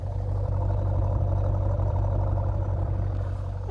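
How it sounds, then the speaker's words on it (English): A C5 Corvette fitted with a MagnaFlow exhaust idles steadily, a close, even low-pitched burble with slight rhythmic pulsing and no voices over it. "It's got a nice, reasonable idle."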